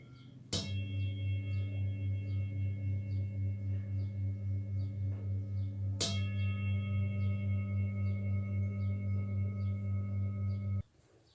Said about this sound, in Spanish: Vamos a golpear el cuenco de modo tal que haremos que vibre y escuchad el sonido